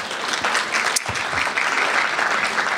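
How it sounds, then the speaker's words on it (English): Audience applause at a library-sponsored art show and artists presentation, steady clapping from a room of people sustained at moderate loudness throughout. "you can applaud after them"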